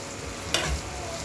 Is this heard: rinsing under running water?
no